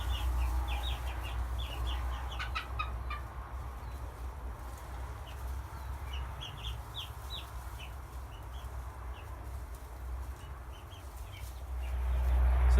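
Chickens in a backyard homestead coop clucking and chirping in scattered bursts at moderate distance, over a steady low rumbling background, with no talking.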